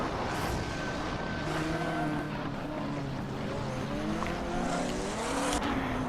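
Hot Wheels toy cars race along a track in Hot Wheels Universe, with a continuous whirring engine-like drone, rising and falling tonal whines and a brief braking squeal.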